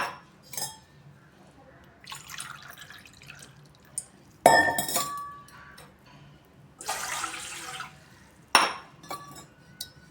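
A glass of water is poured into a cooking pot in a kitchen while making a sweet, with splashing pours in bursts, clinks of glass and quieter pauses between.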